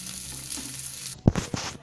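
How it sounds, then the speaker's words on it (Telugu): Curry leaves fry in hot oil in a pan for chutney, a steady soft sizzle that gives way to a few sharp clanks and stirring scrapes near the end. "ఈ విధంగా కలర్ వచ్చేలా వేయించుకోవాలి."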